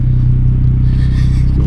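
Ford Mustang engine close by, a loud deep throbbing rumble with a steady pulsing idle-to-rev growl, heavy low-end burble dominating the short burst.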